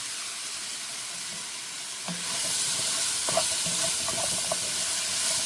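Turnip and onion fry together in a pan, the hiss swelling sharply partway through into a loud, steady sizzle with a few faint stirring knocks, heard up close with nobody talking.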